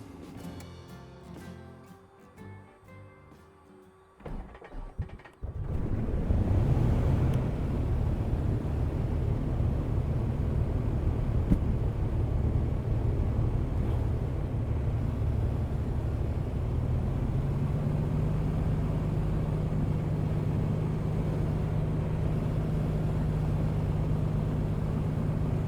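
An A2A Comanche's big 540 piston aircraft engine in a flight simulator cranks with a few uneven chuffs, then catches around five seconds and settles into a loud, steady, rumbling idle that continues throughout, with no talking.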